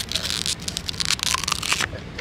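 Teeth biting and crunching into an apple-juice bottle designed to mimic biting an apple, a dense close crackling crunch lasting about two seconds.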